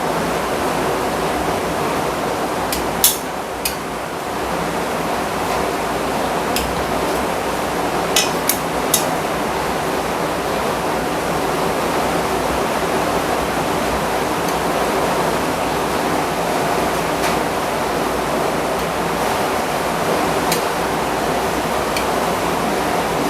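Heavy rain falling in a steady, dense hiss that fills the whole stretch, with a few faint clicks and knocks scattered on top and no talk.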